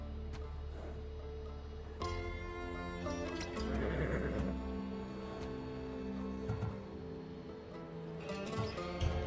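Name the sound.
Hades' horse neighing, Assassin's Creed Odyssey video game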